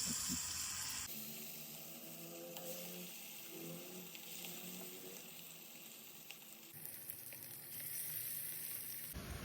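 Kebab-spiced food fries in a pan with a faint, continuous hissing sizzle. Background tone shifts abruptly a couple of times while the crackle carries on steadily.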